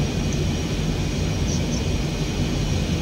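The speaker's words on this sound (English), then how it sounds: "Alright, so we'll go full afterburn." A jet aircraft engine roars at high power on the runway in a flight simulator game, a loud, steady, broadband rushing drone that stays constant throughout with no voices.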